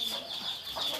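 Peach-faced lovebirds in a colony breeding farm chirp shrilly and continuously, their high calls rising and falling in steady overlapping waves close by.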